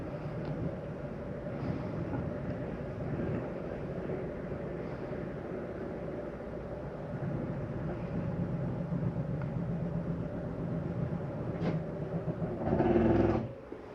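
The slide-out mechanism of a 2023 Flagstaff Superlite 26RKBS travel trailer retracts with a steady, low mechanical motor drone that hums continuously, then ends in a brief louder whir as the slide reaches its fully closed position.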